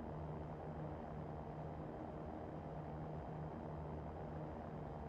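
Cirrus SR20 single-engine propeller plane in X-Plane 11 at takeoff, a steady droning engine hum with a constant tonal buzz, fairly faint and unbroken.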